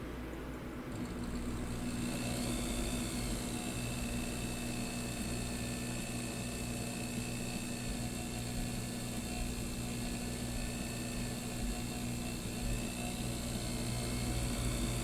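A watchmaker's lathe cuts material while finishing the pivots of a balance staff, a steady continuous whir with motor hum and a faint high whine running unbroken throughout, no talking.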